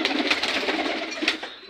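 A young pigeon gives soft coos in quick succession, close and fairly quiet.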